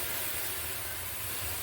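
Boiling water poured over preheated lava rocks in a hot oven beside a pizza steel gives a steady, loud steam hiss that runs the whole moment without a break.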